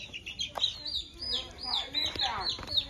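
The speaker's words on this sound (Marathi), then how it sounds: "तर इकडे आता कोंबड्यांची आणि तयारी चालू असा" Chickens cluck and chirp repeatedly at a village in Chindar, Malvan, where livestock are gathered during a three-day village exodus; several birds call close by while people talk in the background.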